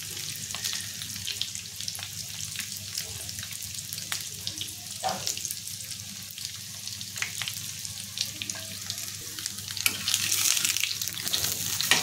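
Rice and mixed-vegetable cutlets shallow-fry in well-heated oil on a flat tawa, producing a soft, continuous sizzle with light crackles and a few brief clicks.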